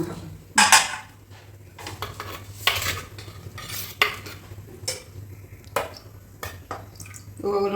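Intermittent clinks and clatters of dishes and pots, with scraping and stirring sounds close by, over a steady low hum.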